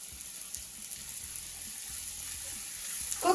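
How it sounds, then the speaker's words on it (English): Chopped onions with capsicum sizzling gently in a pan, a soft steady frying hiss that stays quiet throughout, with a faint clink near the end. "The onions have been cooking for a couple of minutes. Into this I'm going to add half a capsicum"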